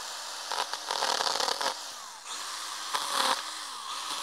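A Stihl GTA 26 battery mini chainsaw cutting green elm branches outdoors, with two buzzing bursts of cutting separated by a brief pause, close and moderately loud, with no talk over it.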